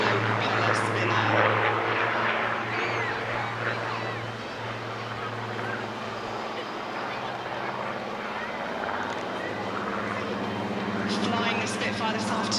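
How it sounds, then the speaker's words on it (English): A blue Spitfire with a yellow propeller spinner drones steadily overhead past the seafront at an airshow, its engine loud and sustained throughout while a commentator talks over it. "As the aircraft fly past us on the seafront there, you'll see the beautiful blue colour scheme with the yellow propeller spinner."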